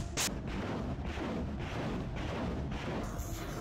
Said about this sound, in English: 122mm caliber multi-barrel rocket launcher system, MLRS, developed by the Soviet Union